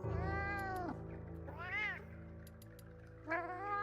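A person mimics a cat, giving three drawn-out, rising-and-falling meows one after another, loud and close with short pauses between, over a low steady background hum.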